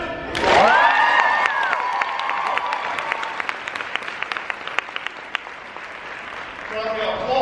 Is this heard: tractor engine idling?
no